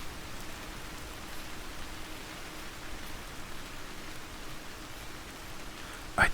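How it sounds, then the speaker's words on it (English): Steady rain falls on leaves in the video game Vintage Story, a soft, even hiss of drops with a brief sharp click near the end and no talking. "I do really like the sound of the rain"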